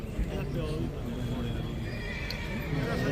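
A Marwari horse whinnies and snorts nearby at a horse championship, with hooves shuffling and people talking over it throughout.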